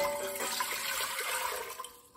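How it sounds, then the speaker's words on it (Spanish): Half a litre of water pouring into a pot for peanut atole, a steady splashing stream that fills the short stretch at close range and tapers off near the end. "Yo voy a agregar medio litro de agua"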